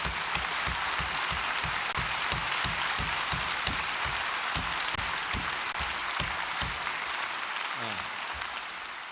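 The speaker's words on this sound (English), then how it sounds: "give yourselves a massive round of applause" Graduates and guests at a university graduation ceremony break into a long, dense round of applause that fills the hall steadily before tapering slightly at the end.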